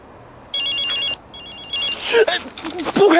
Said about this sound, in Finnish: Puhelu!